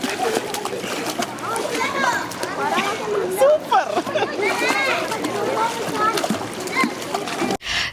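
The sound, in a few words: child splashing and playing in a pool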